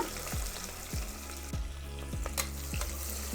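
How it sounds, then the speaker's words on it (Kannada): Sliced onions fry in hot oil inside a pressure cooker, a steady close sizzle broken by about six rhythmic scraping strokes of a stirring spoon, with no talking. "ಅದನ್ ಮೊದ್ಲ ಉಳ್ಳಾಗಡ್ಡಿನ ಫ್ರೈ ಮಾಡ್ಕೊಳ್ಳೋನು"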